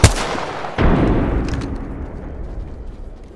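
A frag grenade goes off in Apex Legends with a sharp pop, then a loud, heavy blast whose rumble slowly fades out over the next few seconds.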